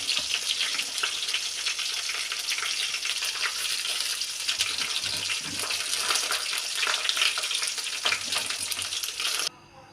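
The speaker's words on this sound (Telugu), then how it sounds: "ఆయిల్ వేసాం ఫ్రెండ్స్ బాగా ఫ్రై చేసుకుందాం లైట్గా జీలకర్ర దాంతోనే వేయించేస్తున్నాం" Dried red chillies and cumin seeds fry in hot oil in a pan, giving a steady, loud, dense sizzle that runs without a break for nearly ten seconds before cutting off abruptly at the end.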